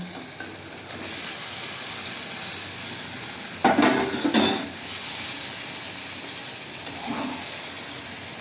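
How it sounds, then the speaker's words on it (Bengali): Spice masala with yogurt-marinated mutton being stir-fried in a pan for Bengali mutton kosha, a low steady sizzle with two brief bursts of scraping stirs midway and a faint one later. "দিয়ে আমি মশলাটাকে সুন্দর করে কষিয়ে নেব।"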